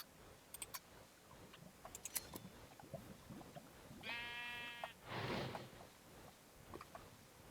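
Sheep bleating in a blocky Minecraft-style video game, a single harmonic bleat near the middle followed by a breathy burst, over faint game clicks and ticks, no talk.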